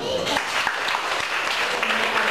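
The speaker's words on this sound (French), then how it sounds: "Doublement d'applaudissements pour Léa, s'il vous plaît" Applause from an audience in the Quiberon congress hall, a continuous bed of many hands clapping at moderate volume for the whole short stretch, with no voices clearly standing out.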